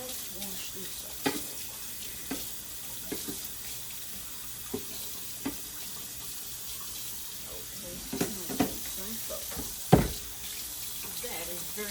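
Tap water running into a kitchen sink while greasy dishes are washed up, a steady soft splash broken by occasional clinks and knocks.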